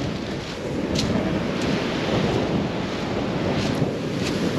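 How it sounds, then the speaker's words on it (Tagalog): Strong wind blasts across a beach with the sea nearby, a steady loud roar of gusts buffeting the microphone alongside surf, continuous and without speech. "Ang hangin naman ngayon dito."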